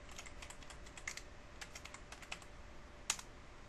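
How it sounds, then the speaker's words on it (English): Username and password are typed on a computer keyboard in quiet, irregular taps, close by with soft clicks and one sharper keystroke near the end. "I'm going to type in Rob and my password"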